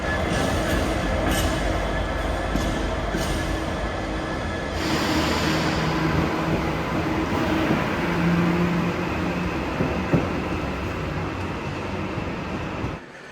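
A train rumbles steadily nearby at a station with a constant mechanical hum and rattle, carrying on throughout with a brief clunk partway through.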